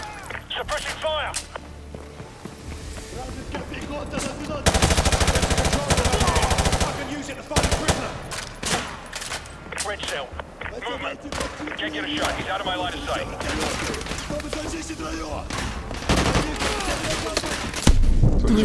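Sustained automatic gunfire and bursts of shots in Call of Duty Modern Warfare 2 Remastered, a loud, dense fusillade with machine-gun fire through most of the stretch, talk mixed in.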